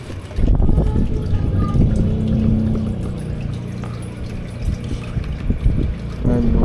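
Water pours into a crayfish tank during a water change, with a continuous splashing flow close by, broken by a few small knocks and a faint tone.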